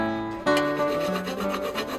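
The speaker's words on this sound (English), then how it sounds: "Uneven areas revealed during filing are planished out and then filed smooth." A fine milling file rasps across a hand-made metal 17th-century cabasset helmet, a close, steady scraping stroke with a sharp onset, repeated rubbing passes and no talk.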